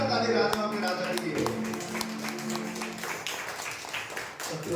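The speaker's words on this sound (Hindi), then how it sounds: "एक जोरदार ताली राजाओं के राजा की" Congregation clapping for Jesus at a Palm Sunday church worship service, a dense, steady burst of applause under a voice and music, gradually thinning toward the end.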